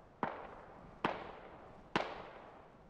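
Three sharp explosions from mines in a military tactical shooter, evenly spaced less than a second apart, each a loud thumping burst with a short decaying rumble behind it, with no talk over them.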